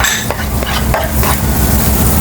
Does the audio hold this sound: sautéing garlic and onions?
yes